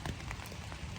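Rain patters steadily on a tent close by at a trail shelter on the Appalachian Trail, a dense hiss of drops with occasional louder taps.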